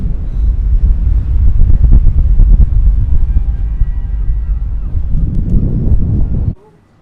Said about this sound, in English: It's really windy now up here